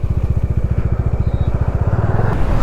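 A Bajaj Dominar 250 motorcycle cruises on a highway, its single-cylinder engine thumping in a fast, regular pulse close to the microphone under steady wind and road roar, growing slightly louder toward the end.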